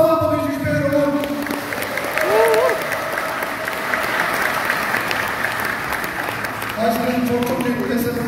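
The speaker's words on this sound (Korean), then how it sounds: "젊은 총재님께 박수 한번 보내주십시오, 여러분." A crowd at a Rotary district governor installation ceremony applauds steadily for several seconds, with a voice speaking in Korean over the start and end of the clapping.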